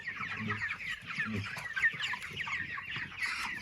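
Chickens cluck and murmur on a South African poultry farm, a busy overlapping chorus of soft clucks at moderate distance with faint low background noise and no clear speech.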